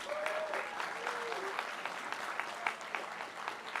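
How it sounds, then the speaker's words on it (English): Quiet applause from the audience at a Board of Education meeting, steady clapping in the distance with a couple of brief voice sounds near the start. "A round of applause for James Macias."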